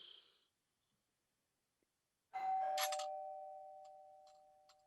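A single electronic doorbell chime rings out after a quiet pause in a theatre production, a bright tone that sustains and slowly fades.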